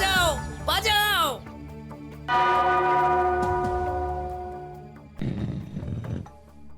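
A bell rings out in a cartoon palace scene, its long sustained tone shimmering for a few seconds between bursts of loud shouting voices and a closing cry.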